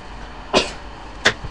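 Two short, sharp sneezes burst out close by, a brief gap between them, over a quiet indoor background.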